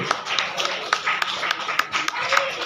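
Audience at a memorial gathering in a Nepali care home clapping together, a steady patter of many hands, moderately close, with a voice talking faintly beneath.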